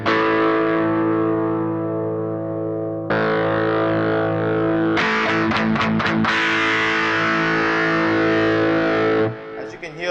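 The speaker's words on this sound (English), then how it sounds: "As you can hear, the sound character is something completely different because it's a distorted sound already." Electric guitar played through a Boss DS-1 distortion pedal on an already distorted amp channel, loud sustained fuzzy chords with a brief rhythmic chug midway, heard alone without talk.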